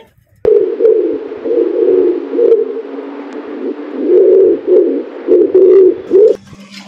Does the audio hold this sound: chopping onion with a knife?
no